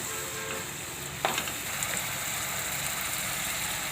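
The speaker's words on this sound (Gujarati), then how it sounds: "તો ટમેટાને આપણે ઘડીક ચડવા દઈશું તેલમાં" Tomatoes cooking in hot oil in a pan for a drumstick curry, a steady soft sizzle close by, with a brief clatter partway through and no talking.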